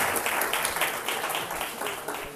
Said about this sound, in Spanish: Un aplauso para Catediano.